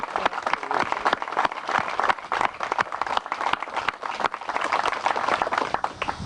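Outdoor crowd applause and clapping at a Sherman tank dedication ceremony, thanking Rusty's Towing Service, sustained and steady throughout with dense overlapping claps.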